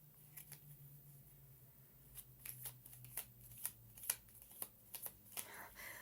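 A deck of cards for the board game Terajoules is shuffled close up in a quiet room, giving a series of crisp riffling snaps and soft taps over several seconds.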